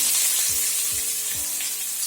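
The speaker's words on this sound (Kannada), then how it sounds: "ಈಗ ಎಣ್ಣೆ 1 ಟೇಬಲ್ ಸ್ಪೂನ್ ಹಾಕಿದ್ದೀನಿ. ಯಾವುದು ಎಣ್ಣೆ ಕೂಡ ಹಾಕ್ಬೋದು. ಈರುಳ್ಳಿ ಹಾಕ್ತಿದ್ದೀನಿ." Onions hit about a tablespoon of hot oil in a pan for restaurant-style butter chicken, giving a steady, close, hissing sizzle with three soft low thumps spaced through it. No one speaks.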